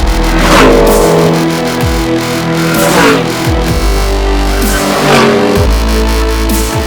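The V8 engine of an Aston Martin Vantage S at Las Vegas Motor Speedway roars loudly and continuously, rising and falling in repeated revving sweeps, with no voices over it.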